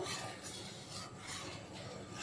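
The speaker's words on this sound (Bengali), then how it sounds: "আমি একটু নাড়িয়ে দেবো।" Quiet, continuous scraping and swishing of a spoon stirring boiling milk in a pot, with rhythmic rasps recurring every second or so.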